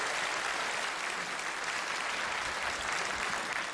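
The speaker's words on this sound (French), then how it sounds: "On l'applaudit." Audience applause for the Chinese ambassador at a Chinese New Year gala, a dense, steady wash of clapping from a large crowd, moderately distant and unbroken throughout.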